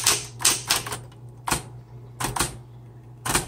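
Bursts of keystrokes on a 1960s Smith Corona Coronet Electric 12 typewriter clack in quick clusters with short pauses between them, crisp and close over a faint steady hum.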